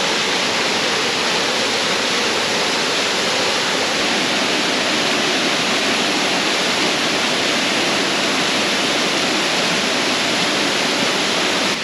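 Hazel Falls in Shenandoah National Park, swollen after five inches of rain, roaring as a loud, steady, broadband rush of falling water heard up close, with no voices.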